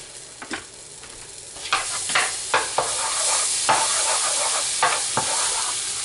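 Garlic paste frying in a pan sizzles steadily, with sharp stirring clatters dotted through the steam hiss, close and fairly loud.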